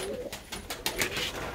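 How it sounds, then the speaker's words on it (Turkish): Breeding pigeons in a coop coo softly and steadily, several birds overlapping in a continuous murmur with a few brighter calls, no voices over them. "Bunlar benim damızlık kuşlar işte."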